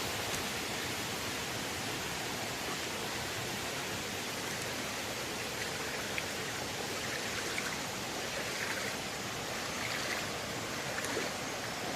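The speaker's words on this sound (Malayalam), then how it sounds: "മുകളിൽ നിന്ന് ഉറവ വെള്ളം വന്ന് ചടുന്നതാണ്" Spring water falls from the rock overhead inside a cave, making a steady, unbroken rushing wash that stays even in level throughout, with no voices.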